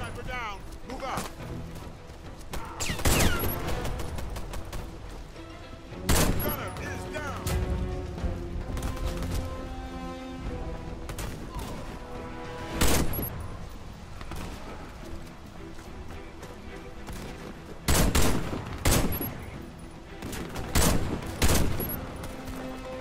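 Gunfire in the shooter game Warface comes as loud spaced bursts and sharp volleys between quieter stretches, with a player speaking in between.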